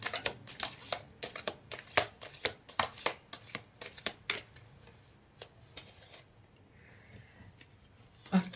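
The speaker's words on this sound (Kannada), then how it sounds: "ಈಗ ಇಲ್ಲಿ 5 ಕಾರ್ಡ್ ಇಡ್ತೀನಿ, ಯಾವುದಾದ್ರೂ ಒಂದನ್ನು ಆಯ್ಕೆ ಮಾಡಿ ಏನು ಬರುತ್ತೆ ಅಂತ ನೋಡೋಣ." Tarot-style cards shuffled and dealt out for a reading, a quick run of crisp riffling clicks and slaps that thins out into a few sparse card placements, close up in a quiet room.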